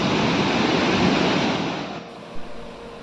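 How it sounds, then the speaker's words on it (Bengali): Usri waterfall in monsoon flood, heavy water crashing down in a dense, loud continuous roar that drops away abruptly after about two seconds. "এটাই হলো উসরি ওয়াটারফল।"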